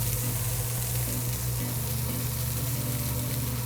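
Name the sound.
julienned white sweet onions sizzling in hot pan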